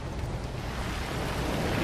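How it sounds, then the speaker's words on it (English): Heavy monsoon rain is heard from inside a car as a dense, steady roaring wash that holds evenly throughout, with no talking. "Through the car windows, the rain looked truly poetic."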